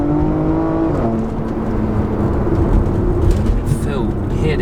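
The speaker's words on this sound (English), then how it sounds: "Do you want to hear the engine?" Porsche Macan GTS in Sports Plus mode, its engine revving with harmonic tones stepping down through downshifts, loud and close, with the rising and falling pitch sweeping through the whole stretch.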